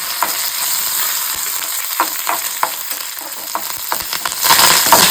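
Grated coconut, red chillies and curry leaves roasting in a hot pan make a continuous dry crackling sizzle, punctuated by regular scraping stirs and occasional taps, close and fairly loud, with no speech.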